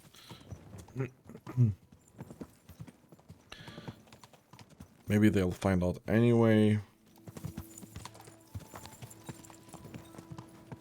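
Rhythmic horse hoofbeats clip-clop steadily through the clip in Kingdom Come: Deliverance II while a person speaks briefly in the middle, with faint game sounds in the background.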